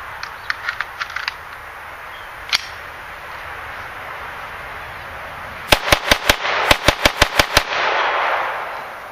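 CCI Mini Mag rimfire rounds fired into 3/4 inch plywood from about three feet: a few light pops early, then a rapid burst of about ten sharp, loud cracks in quick succession.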